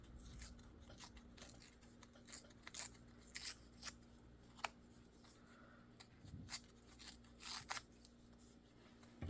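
Scissors trim junk journal paper and fabric scraps in quiet, irregular snips and short cutting runs, close but faint against a low background hum, with no talking.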